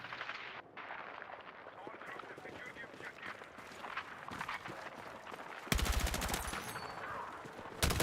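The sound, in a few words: gunfire from the player's weapon in the video game Battlefield 6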